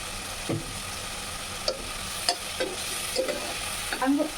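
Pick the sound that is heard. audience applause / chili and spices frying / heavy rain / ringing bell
chili and spices frying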